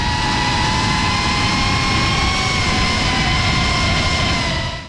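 A GepRC CineLog 35HD cinewhoop FPV drone gives off a steady, loud, high-pitched whine of propellers and motors, holding a constant tone throughout.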